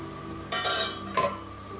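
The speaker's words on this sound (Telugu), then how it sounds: "టమాటా మొత్తం నీట్గా కలిపేసుకొని దాని మీద మూత పెట్టుకొని ఒక 5 మినిట్స్ మళ్ళీ ఉడికించుకుందాం." A spoon stirring tomatoes into chicken curry in a pot, two short bright scraping, clinking strokes over a faint steady sizzle, close and alone.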